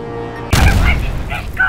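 In the video game Keep Talking and Nobody Explodes, a sudden loud bomb boom bursts out after a low hum, then rumbles and decays with crackling debris for about a second.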